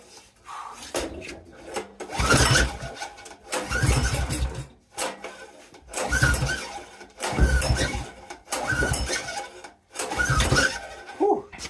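A Predator 301cc small gasoline engine with a rusty carb bowl and water in the oil, pulled repeatedly in rough bursts that catch and sputter briefly before dying, about five attempts spaced a second or two apart.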